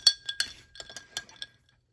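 Ice cubes are stirred in a glass of water, giving about seven quick, bright clinks at close range that fade to silence within a second and a half, with no talking.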